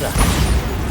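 A Bombarda spell blast in Hogwarts Legacy: one short, dense burst of rumbling, booming noise, loud and close, lasting under a second with no pause.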